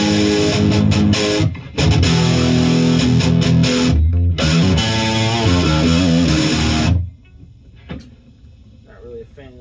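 A loud, heavily distorted electric guitar played through a Crate GX900H amp head's distortion channel with EQ cranked, chords with gritty sustain, briefly cutting out, then dropping away to quiet amp noise.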